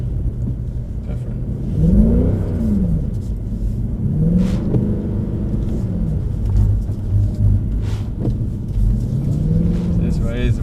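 Black Series car engine on a circuit, a steady throaty drone with rising and falling rev sweeps as throttle is blipped and fed in, heard from inside the car while someone talks over it.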